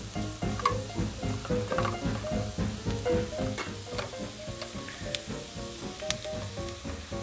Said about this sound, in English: When it's getting soft, put 2 tablespoons of flour. Saute again.